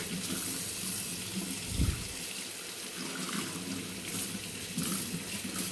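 Tap water runs steadily into a sink over a greasy 1937 Westinghouse WR-212 radio chassis during washing, a continuous close splashing hiss with one brief lower gurgle partway through.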